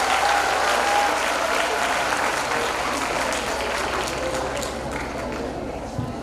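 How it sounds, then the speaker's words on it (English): A large audience at a cultural program claps in a big, sustained round of applause, loud and dense throughout and easing slightly toward the end, with a voice briefly audible early on. "Let's do a big round of applause."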